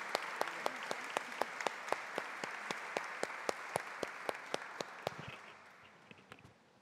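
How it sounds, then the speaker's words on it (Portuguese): A clapping audience at a formal ceremony honouring women, heard as a dense, sustained round of applause with sharp regular claps standing out, fading toward the end. "uma salva de palmas para todas essas mulheres aí"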